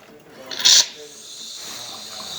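A Jura coffee machine's milk frother, run with milk cleaner instead of milk, lets out a brief loud burst of steam hiss. A softer steady hiss follows it, and faint background voices can be heard.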